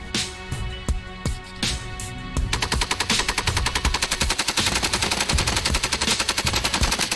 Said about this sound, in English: This is how the machine guns works.